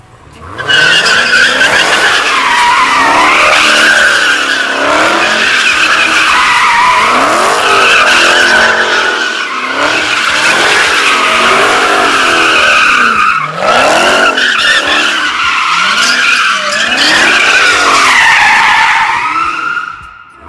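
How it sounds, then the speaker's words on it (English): Car doing wide burnouts at a car meet, tires squealing and skidding loudly and continuously with wavering screeches and engine revving, up close and unbroken by talk. "Stop doing wide burnouts."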